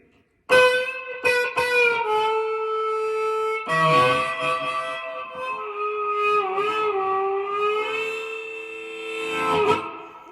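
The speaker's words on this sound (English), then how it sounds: "I've got a bit of reverb on the tone here, you will hear." A sustained, wailing blues harmonica line in a minor key with bent notes and a gritty amplified tone, washed in reverb, playing alone and fairly loud.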